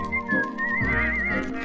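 Whistling carries a wavering melody over a dance orchestra on a 1936 78 RPM record, a clear sustained tune heard alone without singing.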